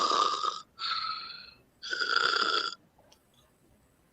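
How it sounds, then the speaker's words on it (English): A person asleep snores in loud, raspy rattling breaths, with three drawn-out snores in a slow rhythm and a quiet pause after the last. "Can't you hear him back there breathing?"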